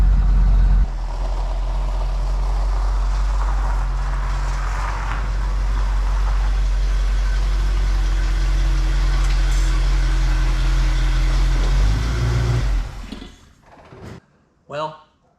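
A car with a leaking two-barrel carburetor runs on a test drive after brake and tune-up work, its engine giving a loud, steady drone with a deep rumble that fades out near the end, followed by faint talking.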